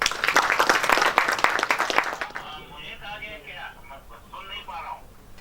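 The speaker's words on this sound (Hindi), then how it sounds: "सर के लिए जोरदार तालियां।" An audience at an orientation workshop at NIT Jamshedpur applauds a virtual guest speaker, a dense burst of clapping lasting about two seconds before voices talk over a phone-like line.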